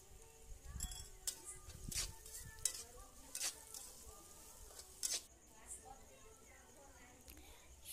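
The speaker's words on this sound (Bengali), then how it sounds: "এইভাবে আমি নেড়ে চেড়ে সবগুলো ভেজে নেব" Ingredients for fried rice sizzle and fry in a pan while a spatula stirs them, giving a low continuous sizzle marked by scraping strokes at irregular intervals, all fairly faint.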